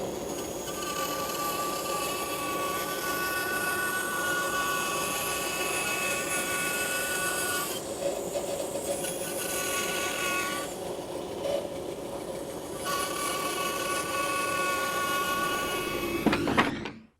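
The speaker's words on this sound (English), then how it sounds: "Dust collector on, and let's make those cuts." A dust collector runs steadily beside a bandsaw cutting a wooden chair workpiece, a loud continuous whine and roar with tonal hum that dips briefly twice, ending with a short scrape before shutting off.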